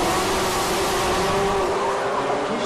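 Racing go-karts run on a kart track, a loud, steady engine roar that stays close throughout with no break and no voices.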